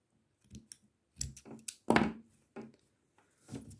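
Scissors cut through paper raffia rope in a quiet room, a series of close, crisp snips and crunches in irregular bursts, about six or seven strokes.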